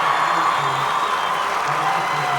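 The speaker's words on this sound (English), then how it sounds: "Hey, you hear the crowd." Crowd at the Silverdome during a 1990 Class DD high school football final, Marion vs. Waterford Our Lady of the Lakes, giving a sustained roar of cheering and applause throughout, heard beneath a steady wash of broadcast noise.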